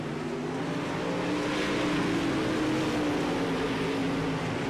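Race car engines roar steadily in an iRacing dirt-track feature race at Charlotte, a continuous loud mechanical drone with no pauses and no voices over it.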